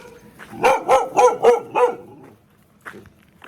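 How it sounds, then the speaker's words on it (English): A dog barks in a quick run of five loud, close barks, followed by a fainter bark or two after a pause, with no talk. "This dog woke up."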